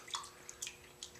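Fingers sticky with hide glue rinsed in a small finger-washing dish of water, a few quiet, close drips and light splashes, with no voices.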